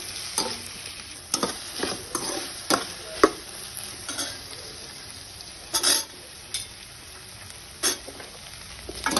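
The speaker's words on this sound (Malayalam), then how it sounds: "നമ്മൾ ഫ്രൈ ചെയ്ത വെണ്ടക്ക അതിട്ടിട്ട് വീണ്ടും മിക്സ് ചെയ്ത് നന്നായിട്ടൊന്ന് റെഡിയാക്കി എടുത്തതിന് ശേഷം ഒരല്പം ഉപ്പിടണം" Fried okra being stirred in a sizzling pan: a low crackling fry runs throughout under frequent scraping and clinking stirs, close by and with no voices.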